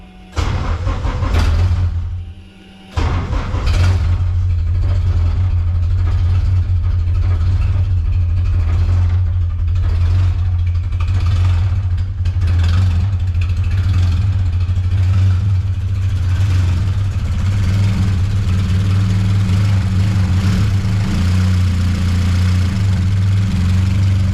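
A racecar engine that has not run in some time starts up after the fuel pump is switched on, then runs loud and steady with a deep rumbling idle throughout.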